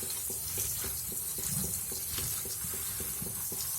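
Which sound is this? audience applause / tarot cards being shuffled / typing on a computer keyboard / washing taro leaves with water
washing taro leaves with water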